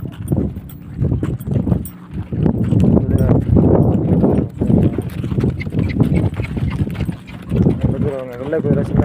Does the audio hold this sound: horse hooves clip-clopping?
yes